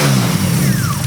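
A BMW E30 with a swapped S52 straight-six on individual throttle bodies revs loudly and close, a brief rising engine roar with a falling whine at the end.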